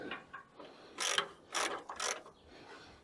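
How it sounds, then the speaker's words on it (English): A ratchet loosens the idler tension adjustment on a Woodland Mills HM130 Max portable sawmill with its blade removed, giving a few close, quiet clicking strokes in an uneven rhythm, no voices. "now I'm going to loosen this idler adjustment"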